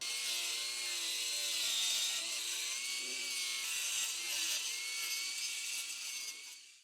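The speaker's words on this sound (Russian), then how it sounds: "у нас пила, она не пропиливает до конца" A steady, harsh grinding whine of a power saw cutting stone continues for several seconds, loud and close, then cuts off at the end.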